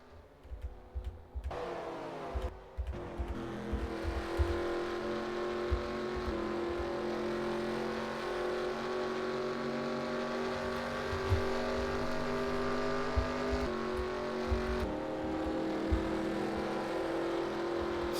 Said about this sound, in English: See Jonesy go by there on that 67 car.